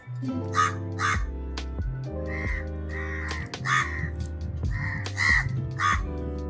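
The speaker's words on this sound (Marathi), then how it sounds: "आणि बघा कावळे मला कसे कॉम्प्लिमेंट करतायत ते." Crows caw repeatedly outdoors in short harsh bursts, partly masked by steady background music.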